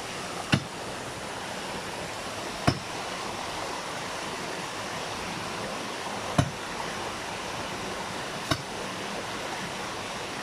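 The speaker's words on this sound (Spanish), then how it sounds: "está cayendo la quebrada" Steady rushing of a creek falling near a Colombian coal mine where the water runs black, a constant close wash of water broken by four sharp knocks.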